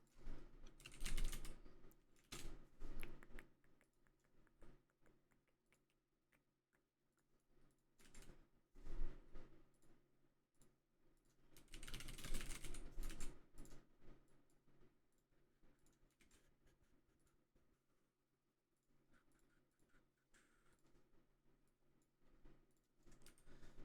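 Computer keyboard typed on in irregular bursts at a desk during game development work, clicky and close, with dense flurries of keystrokes separated by quieter pauses.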